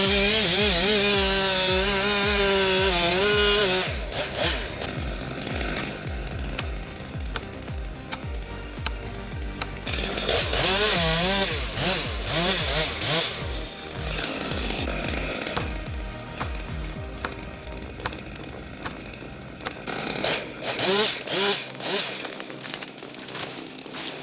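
A chainsaw cuts through wood during forestry work, its engine revving and bogging loudly and close with rising and falling pitch, while a voice talks over it.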